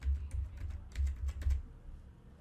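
Keys clack on a computer keyboard as a parental control PIN is entered, a short run of about a dozen close, crisp taps at an even pace before the keyboard falls quiet.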